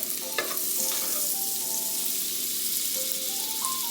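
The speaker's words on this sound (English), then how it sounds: "I'm just gonna start off with 1 tablespoon of butter in a hot pan, and we're gonna let this melt down" A tablespoon of butter melts in a hot pan with a soft, steady sizzle and a few faint tonal squeaks, heard alone without talking.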